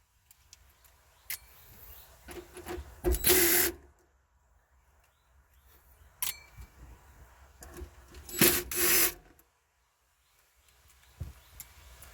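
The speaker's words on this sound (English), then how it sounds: "So now we're going to remove these bolts. They're all 8mm." Small 8mm bolts being loosened and handled on an Acura TL during fuel pump work, quiet metallic clicks and ratcheting with two louder clattering bursts, close by and without talk.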